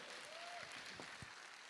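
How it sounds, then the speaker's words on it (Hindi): An audience claps in a dense, steady patter of applause that holds at an even level through the whole short stretch, with a faint tone drifting over it. "मैं चाहता हूं एक बार जोरदार ताली इस खूबसूरत प्लेटफॉर्म के लिए जरूर बजाएं"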